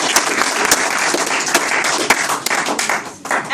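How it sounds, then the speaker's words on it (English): An audience claps in an indoor presentation, giving a dense burst of applause with sharp individual claps that tapers off after a few seconds. "give her a clap"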